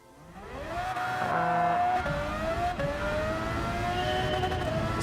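A race car in Gran Turismo 7 accelerates hard, its engine note climbing and shifting through gears with a steady loud whine, close and alone without talk.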